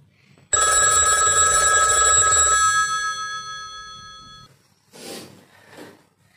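A telephone bell rings loudly for about four seconds and goes unanswered, a bright sustained electronic ring that cuts off, followed by a brief voice.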